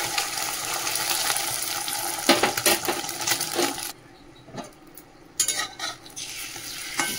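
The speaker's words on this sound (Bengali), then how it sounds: "আবার অমলেট এই যে গুললাম পেঁয়াজ লঙ্কা দিয়ে অমলেট করে দিই" An onion and chilli omelette fries in mustard oil in a pan, giving a steady close sizzle broken by metallic clinks and scrapes of a utensil, with a brief quieter stretch midway.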